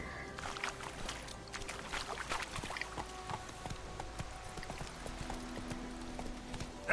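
Hoofbeats of Roach, the horse in The Witcher 3 video game, a steady clip-clop of trotting hooves over ambient game sounds, with no talking.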